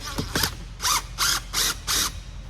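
Ratchet wrench backing out bolts from a pontoon boat console, several quick rapid clicking bursts in an even rhythm, close and clear with no voices.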